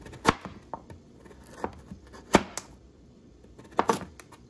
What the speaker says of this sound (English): I'm gonna cut it in rounds.